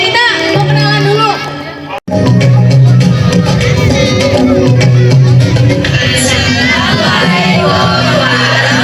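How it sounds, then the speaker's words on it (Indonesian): An audience at a school Kemblok show in Plered cheers for the performer Prabu Singa, a loud crowd roar of yells and whoops that fills the space after a brief cut, with amplified voices mixed in. "Beri tepuk tangan yang meriah untuk Prabu Singa."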